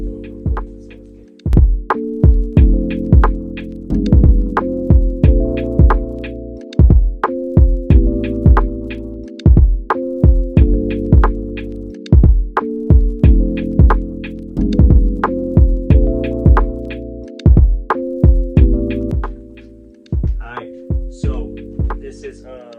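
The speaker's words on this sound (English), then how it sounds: "And then you run it through the Cricut." Cricut Air 2 cutting machine working through maroon faux leather, with loud repeating tonal whirring motor runs broken by sharp clicks and knocks in a steady mechanical rhythm.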